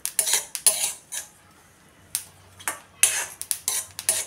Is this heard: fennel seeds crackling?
yes